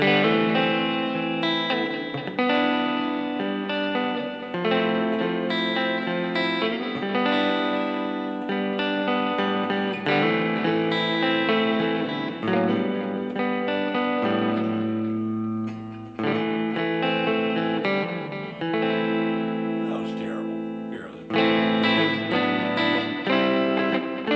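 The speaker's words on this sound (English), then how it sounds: "Neck pickup all the way out on the tone control." An electric guitar through a Lollar Imperial neck pickup, tone control fully open, plays a sustained, effected passage with warm, rounded tone, thick with delay and reverb, steady and loud with no voices.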